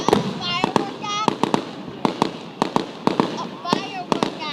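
Fireworks burst in a rapid, uneven series of sharp cracks and bangs, some followed by crackling, while people talk and call out loudly over the explosions.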